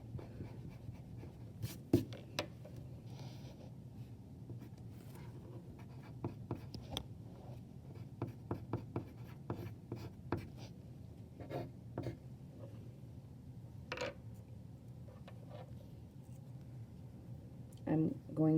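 A pencil scratches quietly across paper in irregular strokes and taps while working through math, with soft background noise and a faint voice now and then.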